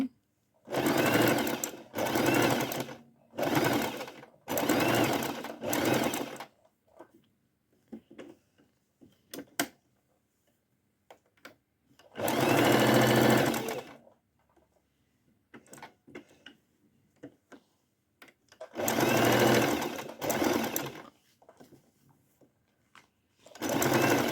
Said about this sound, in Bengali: এখন এটাকে এভাবে সেলাই করে নিব এভাবে চারপাশ দিয়ে ঘুরিয়ে ঘুরিয়ে সেলাই করে নিচ্ছি